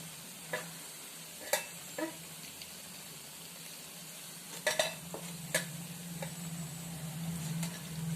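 Veg chicken pakora frying in hot oil, a soft continuous bubbling sizzle punctuated by scattered sharp clicks and taps of a utensil, fairly quiet and without talking.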